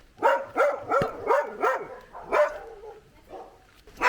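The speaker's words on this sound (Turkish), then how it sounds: "Orada bir köpek var. Şu an saldırıya geçti" Village dog in Sri Lanka barking aggressively, a run of about six sharp, close barks in quick rhythm, then a pause and more barks.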